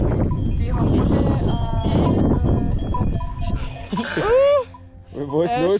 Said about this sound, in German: Eine Herde weißer Schafe